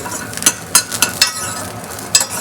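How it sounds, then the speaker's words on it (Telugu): Chilies and garlic fry in hot oil in a pan for coconut chutney, with a low sizzle under several sharp metallic clinks and scrapes of a spoon stirring against the pan. "కొంచెం ఇలా ఫ్రై చేసుకోవాలి ఇలా బ్రౌన్ కలర్ వచ్చే వరకు ఇలా ఫ్రై చేసుకున్నాం"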